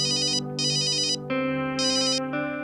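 Electronic phone ringtone for an incoming call, a loud melodic pattern of bright beeping bursts over sustained tones, repeating in rhythmic phrases with no voices over it.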